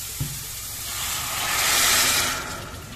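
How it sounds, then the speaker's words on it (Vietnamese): Water poured into a hot pan of stir-fried seaweed sets off a loud, rising sizzle and hiss of steam, peaking midway before easing slightly, with a brief clank at the start. "Xào nó săn lên rồi thì các bạn đổ cho mình nước vào nhé"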